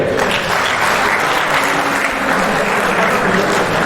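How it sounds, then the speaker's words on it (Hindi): An audience claps for a drama team at an Independence Day event, a dense, loud burst of applause that stays steady and close for a few seconds with no voices on top. "आप इनके लिए तालियां बजाइए।"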